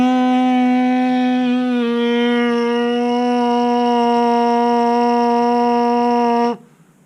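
Lips buzz into a trombone mouthpiece in one steady, loud, nasal tone held for about six and a half seconds with a slight pitch step early on, then a sudden cutoff.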